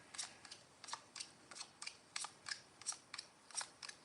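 A zodiac card deck shuffled by hand, with a close, quiet series of crisp snapping clicks in a steady, fairly even rhythm, about three or four per second, and no talk.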